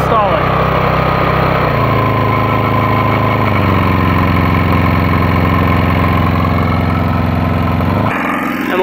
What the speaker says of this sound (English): This is really a lot of load for this poor little engine.